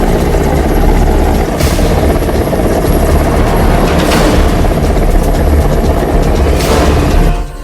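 An Air Force helicopter flies nearby, its rotor producing a loud, continuous churning roar with periodic swells of thumping blade noise, and no voices.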